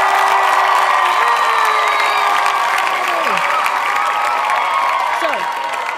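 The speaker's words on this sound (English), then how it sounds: "Let's give a round of applause to him." A crowd applauds and cheers at a birthday tribute for Kermit the Frog, a loud, steady wash of clapping with whoops and sliding tonal calls running throughout.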